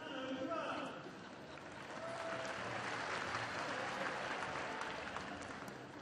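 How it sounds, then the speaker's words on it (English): Australian Open 2015 tennis crowd applauding Andy Murray, sustained clapping that dips briefly then swells back to a steady roar, with a commentator talking over it throughout. "there's the applause from Andy Murray, who's a very popular fellow out here"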